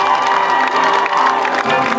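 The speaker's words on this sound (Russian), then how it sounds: "Ваши аплодисменты!" Audience at an international music festival and competition event in Belarus bursts into loud, sustained applause mixed with cheering and whoops, a dense continuous crowd roar filling the whole moment.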